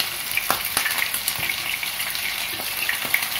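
Large home-style meat cutlets, Big Mac–shaped patties, fry in a pan with a steady, close sizzle and crackle, punctuated by a few sharper pops and spatters throughout.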